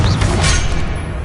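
A Confringo blasting spell explodes in the video game Hogwarts Legacy, a loud booming burst with a rumbling crash that decays over about a second.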